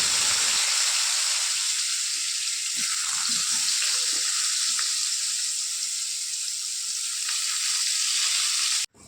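Steady, loud sizzling of potatoes deep-frying in hot oil, continuous hiss throughout with faint clinks, cutting off abruptly at the end.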